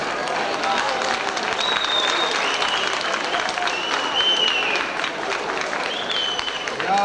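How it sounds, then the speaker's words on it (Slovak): Steady, loud audience applause fills a hall at a Slovak public discussion event, with scattered whistles riding over the continuous clapping throughout. "Prosím, potlesk ešte raz."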